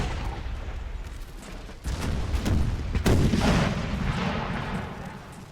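Cannon and musket fire in a Napoleon Total War battle: a rumbling spread of artillery booms and crackling volleys, with one sharp near shot amid distant battle noise.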